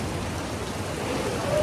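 Steady rain falls outdoors in a garden, a dense continuous hiss of drops on surfaces, close and even, with faint speech mixed in.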